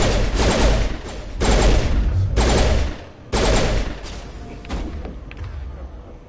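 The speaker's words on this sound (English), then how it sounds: "there's still people shooting" Sustained bursts of gunfire from enemies in the video game Mass Effect, loud, dense rattling volleys with short gaps between them and a heavy low thump, no talking.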